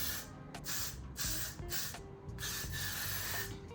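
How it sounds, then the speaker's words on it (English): Several short bursts of got2b hairspray hiss in quick succession, close to the microphone, with brief pauses between sprays. "I'm just going to take some got2b spray"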